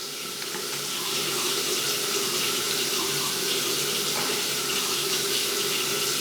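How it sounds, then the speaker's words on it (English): A bathroom sink tap runs steadily, a close continuous splash of water into the basin with no voices. "I make sure to leave the sink running to waste water"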